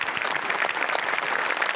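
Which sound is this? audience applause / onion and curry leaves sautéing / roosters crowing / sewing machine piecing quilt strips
audience applause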